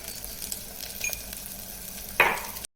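Malvani chicken curry masala with turmeric and red chilli powder being stirred in a pan, a gentle continuous sizzle with light scraping and a louder scrape near the end before it cuts off.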